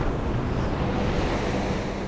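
Ocean waves with a steady, loud wash of surf and wind noise, dense and continuous throughout, with no talking.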